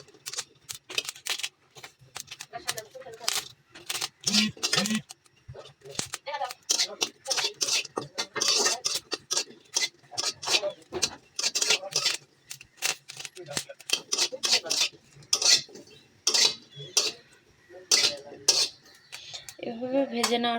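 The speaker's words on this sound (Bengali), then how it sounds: "কাঁচামরিচটা আস্তে আস্তে এভাবে ভেজে নেব।" Green chilies fry in a heated wok while a metal spatula stirs them, producing repeated close clanks and scrapes against the pan in an uneven rhythm.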